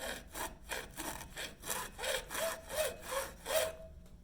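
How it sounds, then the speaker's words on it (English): Hacksaw cutting across the thumb of a cut-resistant work glove, about ten even back-and-forth rasping strokes in a steady rhythm, close and fairly loud, with no talking. "Let's try a hacksaw a little further down on the thumb."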